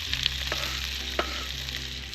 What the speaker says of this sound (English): Seems to be getting a nice sizzle on here and it's smelling good.